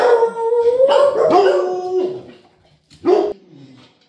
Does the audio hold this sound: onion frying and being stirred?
no